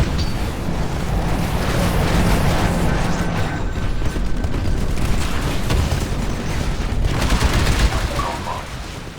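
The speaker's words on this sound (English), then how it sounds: "I want to throw my grenade." Heavy combat noise in Titanfall rolls on loud and near, with booming blasts and bursts of gunfire blending into a dense, continuous roar that fades slightly at the end.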